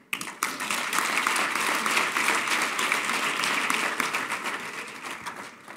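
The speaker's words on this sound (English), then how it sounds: "you got this warm applause" Warm, steady applause from a large conference audience, a dense wash of many hands clapping that holds for several seconds before tapering slightly at the end.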